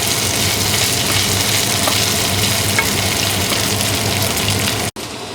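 Eggplant steak sizzles loudly and continuously in a pan, a dense, steady frying hiss close up that breaks off abruptly near the end.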